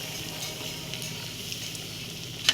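Green moong dal vadas frying in hot oil give a steady, quiet sizzle with light crackle, alone, ending with a couple of brief sharper pops.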